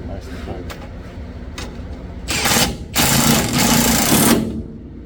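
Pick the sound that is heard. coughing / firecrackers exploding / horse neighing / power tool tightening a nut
power tool tightening a nut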